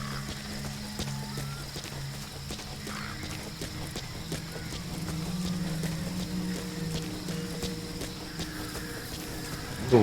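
Horse hooves walking in Metal Gear Solid V, a steady, moderately quiet clip-clop rhythm over a low hum of game ambience, ending in a louder burst.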